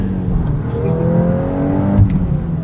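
A 2023 Volkswagen Golf R 20th Anniversary Edition with manual gearbox revs hard, its engine note climbing steadily to the rev limiter and bouncing there, heard continuously from the cabin with no talk.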